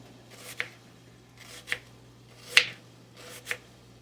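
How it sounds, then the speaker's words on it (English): A knife slices through onions on a cutting board, four crisp, evenly spaced cuts about a second apart, close and clear, with a faint steady hum beneath. "I'm going to slice my onions."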